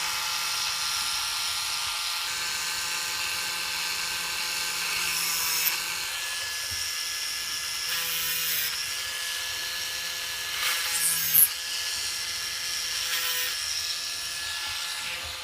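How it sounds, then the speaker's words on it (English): A small high-pitched rotary tool whines steadily as it slowly enlarges a hole to fit a little metal bushing on a Tamiya Mini 4WD car body damper, with brief pauses and louder bursts as it bites. "slowly make the hole a little bit bigger in order to fit to this little metal bushing right here"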